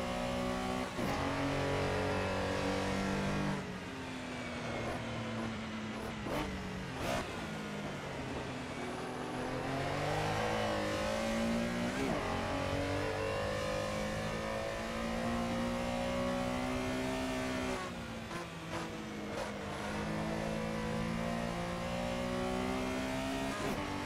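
Engine revving from a car in the Assetto Corsa racing game during a touge mountain-road battle, rising and falling through repeated gear changes and throttle lifts, loud and continuous with no talk.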